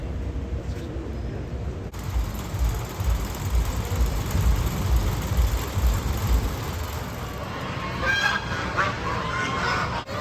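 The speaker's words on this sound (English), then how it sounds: "Chickens, geese, ducks," Geese and other poultry inside the Minnesota State Fair poultry building, a steady busy din of honking and clucking from many birds over crowd and hall noise, with louder honks standing out near the end.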